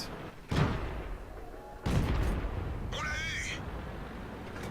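Tank shell impacts in a World of Tanks match with T40 and Somua S35, heard as two heavy booming hits in quick succession followed by a ringing metallic ricochet whine, under a commentator's voice.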